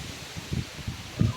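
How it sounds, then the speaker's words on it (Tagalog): Strong wind gusts rustle leaves beside a river, a steady low rushing with two louder bursts of rustling, fairly close and with no voices. "Kamalakas ang hangin."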